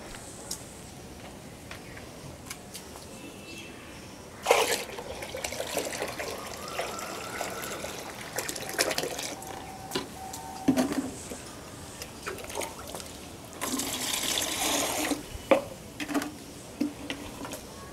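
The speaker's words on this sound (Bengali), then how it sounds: "আমার কাছে একটি 20 লিটারের জলের কন্টেনার রয়েছে, যেটির মধ্যে আমি এই খোলটিকে মেশাবো।" Mustard cake is mixed into water in a 20-litre container, with faint sloshing and splashing bursts, soft knocks and scraping, loudest in a few short stretches amid quiet room noise.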